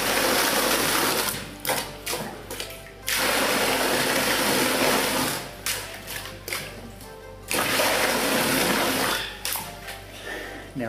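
A hand-operated water pump lifts water about 1.5 meters through a 4-inch pipe, making rhythmic bursts of rushing, gushing water roughly every two seconds with a steady mechanical clatter underneath.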